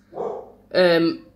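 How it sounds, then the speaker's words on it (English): A dog gives a short, low grumbling sound followed by a single clear, close bark. "that's the dog barking"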